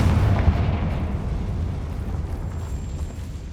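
A Confringo explosion spell goes off in the video game Hogwarts Legacy, a loud booming blast with a rumbling tail that slowly fades over a few seconds, with no voices.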